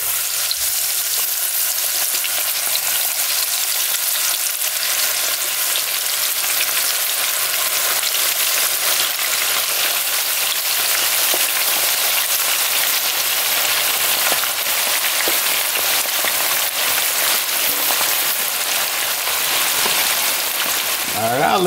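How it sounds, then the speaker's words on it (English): Lemon pepper chicken wings frying in hot grease give a steady, loud crackling sizzle, constant and close throughout, with no voices. "the grease is nice and ready. We'll go ahead and drop our lemon pepper wings in here"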